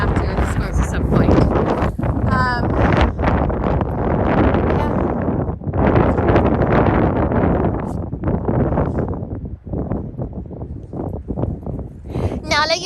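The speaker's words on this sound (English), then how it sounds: "It's super windy." Steady wind roars and buffets the microphone throughout, with a person talking over the gusty rumble.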